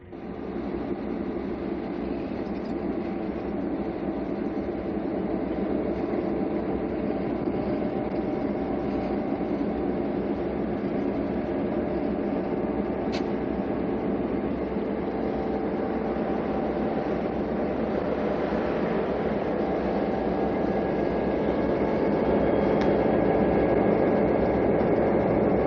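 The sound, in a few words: westbound Santa Fe train number 3 arriving at station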